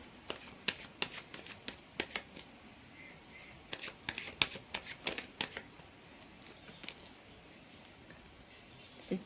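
Tarot cards riffle and flutter in a string of quick, close, crisp shuffling bursts with short pauses between them, steady and fairly quiet with no talking.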